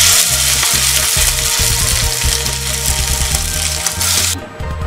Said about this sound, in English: We'll shallow fry this pieces.